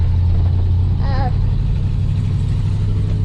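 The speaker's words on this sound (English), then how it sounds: "We're moving the bucket truck back home from setting these tanks." A bucket truck engine idles nearby with a steady, loud low rumble, a brief whine rising over it partway through.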